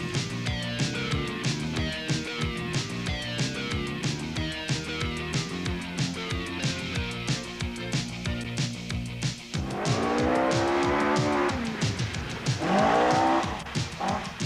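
A 2-litre Ford Escort rally car at the 1984 Rally New Zealand gives a close, loud, rasping engine with rapid rev rises and gear changes, then bursts of tire squeal and skidding near the end.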